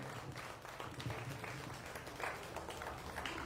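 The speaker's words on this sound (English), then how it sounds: "Let's give him a nice big round of applause for a job well done." An audience at a dairy and pygmy goat show applauds the junior dairy goat showman, a faint, steady spread of many hands clapping in a large, open space, with some voices underneath.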